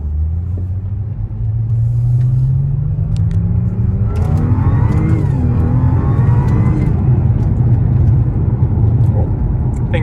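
An Audi A6 fitted with a Magnaflow cat-back exhaust accelerates on a rough road, a loud deep rumble whose drone climbs steadily in pitch as the revs build, then holds a sustained roar, heard from close by.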